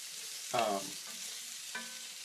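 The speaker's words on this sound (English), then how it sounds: "Once the onions are cooked down, then we're going to add some chicken stock to it" Onions cooking down to light brown in a pan, a scraping stir followed by steady low sizzling and two softer utensil scrapes, close and clear with no talking.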